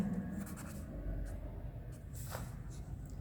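Pen scratching on paper as a maths answer is written out, faint soft strokes close to the microphone, under a quiet steady room hum.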